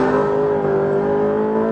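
A Ferrari 458 Speciale races fast through a corner on the Anglesey circuit, its engine a loud, sustained high-revving wail heard from inside, holding a steady pitch throughout.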